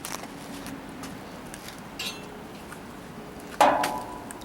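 Metal tool chips junk off a part of a 330A/BP welder in a workshop, a few scattered light knocks and clinks followed by one sharper, louder ringing strike near the end.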